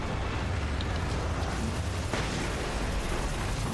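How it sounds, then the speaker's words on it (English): A flashbang grenade going off in the video game Alan Wake, heard as a sustained dense roar of broadband noise with a faint sharper crack partway through, no voices. "And we'll throw a flashbang at it."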